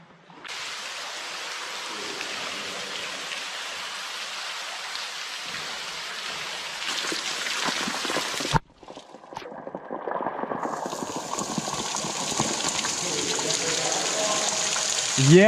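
Water pouring from a cave ceiling like a waterfall, a dense continuous rushing splash that briefly cuts out, then resumes with a brighter spattering character.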